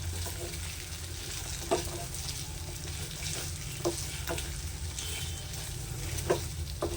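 Paneer kachori filling frying over low heat in a pan carries a continuous sizzle, punctuated by periodic scrapes and taps of the spoon as it is stirred close up.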